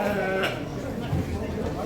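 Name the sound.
lamb bleating at a livestock show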